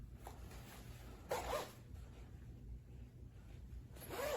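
Short zipping rasps from the zippers of a heated fleece vest, one pair in the middle and another at the end, faint and close against a quiet room hum.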